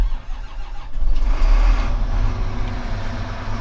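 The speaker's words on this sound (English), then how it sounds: "This one sounds a bit more beefy. It's got a bigger engine in this one. This is 13 litre." A combine harvester's 13-litre engine turns over and catches, settling into a deep, heavy rumble that stays loud and close throughout, with no voices over it.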